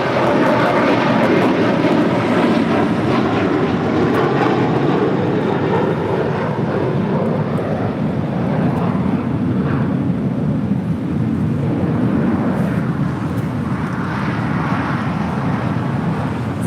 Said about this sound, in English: That is United Airlines flight 547 coming in from San Jose del Cabo. A320.